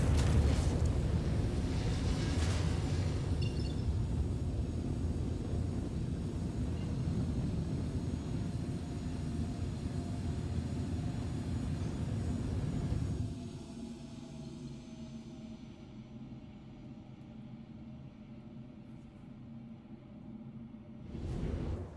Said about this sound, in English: Takeoff complete. Landing gear released.